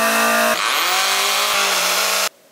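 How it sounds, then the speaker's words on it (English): An electric drill whines at a high, steady pitch as it bores into a magnesium oxide (MGO) board, the motor note dipping under load and then cutting off abruptly, loud and close. "we will use this electric drill to drill this MGO board"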